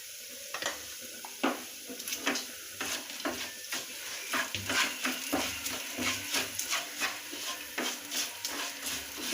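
A spoon scrapes and clinks around a cooking pot as spices including turmeric and chili powder are mixed in, with irregular sharp taps over a faint sizzle and no talking.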